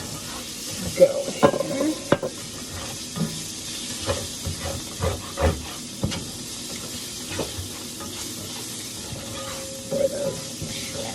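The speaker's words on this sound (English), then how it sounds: "Just to really get that sizzle" Shrimp sizzle in a frying pan with extra oil, a steady close hiss and crackle with occasional scraping stirs and pan clatter, and a brief voice speaking over it.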